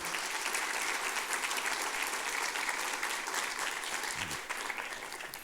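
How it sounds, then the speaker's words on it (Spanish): An audience at a public forum on tourism law gives a sustained round of applause, many hands clapping in a dense, even roar that tapers slightly toward the end. "Le damos también un fuerte aplauso."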